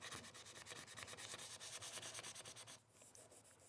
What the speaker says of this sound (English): I'll get a little piece of 800 grit sandpaper